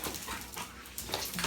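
A Dogo Argentino female, still a puppy at heart, pants and whimpers close by, with soft breathy huffs and a few higher whines breaking through near the end.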